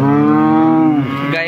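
A cow gives one long, loud, close moo at a cattle market, a sustained low bellow that drops and trails off near the end.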